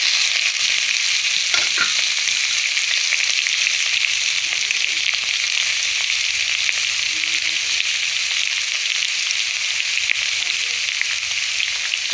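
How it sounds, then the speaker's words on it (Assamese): Mango pieces fry with onions in a hot pan, giving a steady, loud, dense sizzle that runs unbroken throughout, with faint stirring scrapes underneath and no talking. "এই আমখিনি দি দিলোঁ তাৰপিছত ভালকে পিঁয়াজখিনিৰ লগত মই মিলাই দিছিলোঁ"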